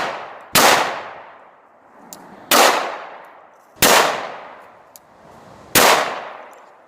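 Four loud, sharp gunshots crack at a shooting range, spaced about a second and a half apart, each followed by a short ringing decay, with a faint metallic clink between some shots.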